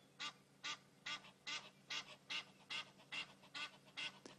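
Egyptian geese squabbling, a regular series of about a dozen harsh honking calls in quick rhythm, fairly faint and at a middle distance, with no voices.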